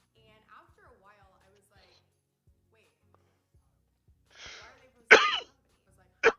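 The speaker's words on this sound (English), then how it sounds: "I'm still coughing." A person coughs and clears their throat, a few soft early noises followed by two sharp, loud coughs near the end, close to the microphone.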